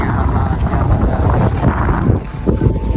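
Cold wind gusts over a hilltop in Nawalpur, buffeting the microphone as a steady, close, rough roar with slight swells and no voices.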